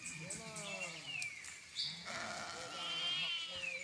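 Sheep and goats in a herder's flock bleat in the morning, several wavering calls overlapping at moderate distance while someone speaks over the animals.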